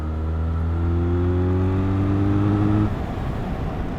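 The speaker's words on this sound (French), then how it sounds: "Ah, en accélération, petit bruit de boîte à air." A 2022 Benelli 502C motorcycle engine pulls hard under acceleration, its steady harmonic drone rising in pitch for a few seconds before dropping back with a rougher airbox intake rumble.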